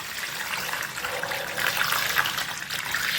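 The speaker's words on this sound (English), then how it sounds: "What I'm gonna do here is just cover these with water." Water pours steadily over jalapeno cheddar summer sausages to cover them, a close continuous splashing gush with no talk.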